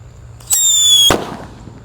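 A blue Happy Power 3 firecracker goes off close by, outdoors at dusk: a shrill, whistling squeal for about half a second, then a sharp bang whose echo fades.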